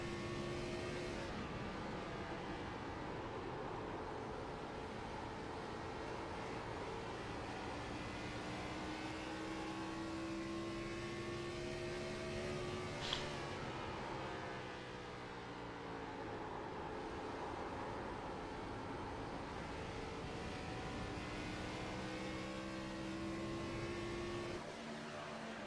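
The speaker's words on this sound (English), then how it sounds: "He's really having to feather that throttle coming out of the corners." A Gen 4 stock race car engine in a racing game at Iowa hums and whines continuously, pitch rising and dipping as the driver feathers the throttle out of corners, with no talking over it.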